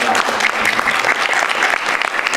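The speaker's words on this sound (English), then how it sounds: "A round of applause for her, please." Brisk audience applause for a guest at a gathering, a loud, dense burst of clapping from a room of people that runs continuously for a couple of seconds, close and without talk over it.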